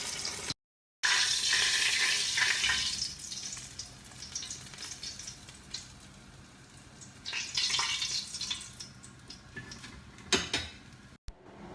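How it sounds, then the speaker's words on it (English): Rice being rinsed in a pan of water before cooking with fish, with intermittent swishing, sloshing and clinking of the pan, close and fairly loud, no talking. "we're going to clean our rice and get this fish"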